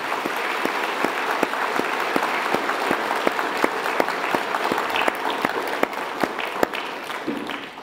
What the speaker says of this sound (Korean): 우리 다시 한번 뜨거운 박수 올려드릴 겁니다.